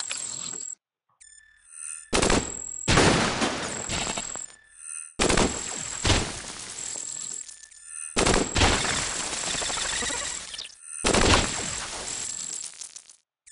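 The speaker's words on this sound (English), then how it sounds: "Ah, grenade launchering" A grenade launcher fires in the Cogmind video game: five loud explosive bursts, each lasting one to two seconds and separated by brief silences, with a thin high electronic tone running over them and no talking.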